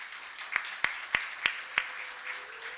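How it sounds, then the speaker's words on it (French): A church congregation applauds volunteers, a soft spread of clapping with five distinct louder claps ringing out in a steady rhythm before fading. "vous allez applaudir ces frères et sœurs"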